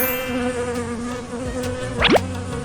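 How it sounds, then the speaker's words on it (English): Buzzing bees in a kids' cartoon, a steady insect drone running throughout over background music, with a quick rising whoosh-like sweep near the end. "Oh, the bees are disturbing our treatment."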